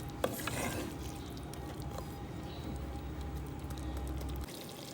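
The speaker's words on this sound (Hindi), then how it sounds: "अभी इसको करेंगे हम मिक्स।" Gobhi gosht, a cauliflower and mutton curry, is stirred and mixed in a pot, giving a quiet, steady scraping and soft sizzle with a sharp spoon knock near the start.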